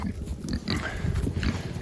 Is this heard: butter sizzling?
no